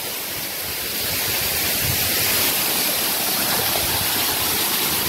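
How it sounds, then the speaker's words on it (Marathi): The Navlai waterfall, running with a modest flow over rocks, gives a steady, dense roar of falling water. The sound is close and constant throughout, with no voices. "गावातले लोक म्हणवते धबधब्याला पाणी कमी आहे, पण हे जेवढं पाणी आहे तेवढं बास आहे आपल्यासाठी"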